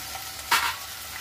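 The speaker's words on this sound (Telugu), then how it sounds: "ఇప్పుడు ఈ ఆయిల్లోనే 2 టమాటాలు కట్ చేసుకోవాలి. కట్ చేసుకొని ఇవి కూడా మగ్గించుకోవాలి." Two chopped tomatoes hit hot oil for okra masala curry, giving a quiet background sizzle with one short, sharp hiss as they land in the pan.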